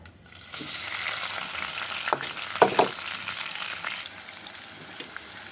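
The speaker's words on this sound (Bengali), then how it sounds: "একটু এগুলো একটু ভালো করে কষিয়ে নেব একদম কালারটা বাদামি কালার করে নিয়ে নেবো" Ginger, garlic, onion and spices fry in hot oil, a moderate close sizzle with a couple of sharp scraping stirs near the middle before it settles into a quieter, even hiss.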